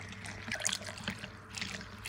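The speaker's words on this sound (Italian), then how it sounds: "A questo punto aggiungo 200 g di acqua, aggiungo l'acqua gradualmente" Water added gradually into a potato batter for a gluten-free potato flatbread, a soft continuous trickle and splash close by, with faint kitchen hum underneath.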